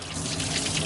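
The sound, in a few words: water pouring from a flooded diesel engine intake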